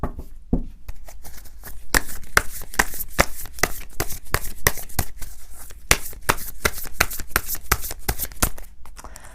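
Tarot cards shuffled by hand in a quiet room, a rapid run of crisp riffling snaps and soft slaps repeating close and clear for several seconds, with no talking.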